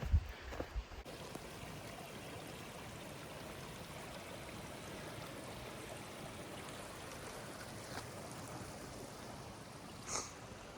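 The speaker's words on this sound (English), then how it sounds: "I think I'm supposed to cross the river again" A river on the Mogollon Rim along the Arizona Trail flows in a steady, broad rush of water, close and continuous, with a few brief knocks at the start and no voices.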